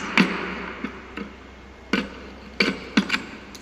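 A chisel working wood to clean out a dovetail joint cavity, a handful of sharp, separate taps and chops spaced irregularly over a steady low background hum.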